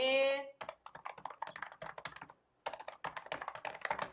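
An address is typed on a computer keyboard in quick, close clattering bursts of keystrokes with a short pause midway, following a brief bright tone at the start.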